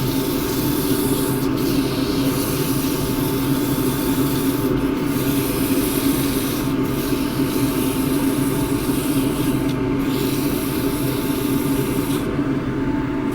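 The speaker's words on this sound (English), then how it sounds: "A couple of seconds sanding, then you can see how clean your cut is." Steady, loud abrasive whirring of sanding against an endgrain wooden cup spinning on a lathe, continuous throughout with a constant motor hum beneath.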